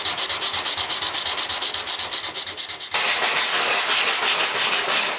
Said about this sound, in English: I'm going to get a larger sanding block and start blocking it smooth with some 180